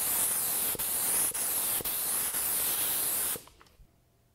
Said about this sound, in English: I spray applied a second coat of lacquer